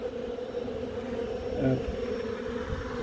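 Honey bees from a hive being relocated out of a chimney make a steady, close swarming drone, with a brief louder swell in the middle of the steady hum and no talk.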